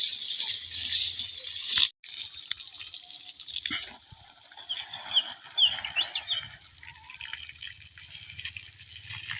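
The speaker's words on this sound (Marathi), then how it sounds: "तर आता हे बघा विहिरीला पाणी मारायचं आहे" Water pumped into a well at a village farm, a steady rushing flow that rises and falls, with birds chirping nearby throughout.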